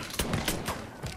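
Gunfire in the Mafia III video game, a few sharp broadband shots in quick succession over a dense game backdrop, moderately loud with no talk.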